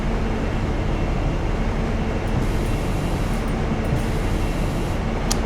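A diesel train in Train Simulator (Railworks 3) rolls steadily toward a station with a constant low rumble and faint hiss, continuous and moderately loud throughout, with no talking.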